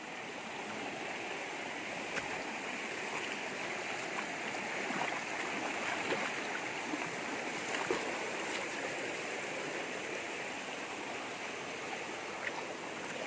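Steady rushing of a river stream running along the boundary of a hillside farm lot with waterfalls, a broad continuous wash of water heard up close and alone, with no talking.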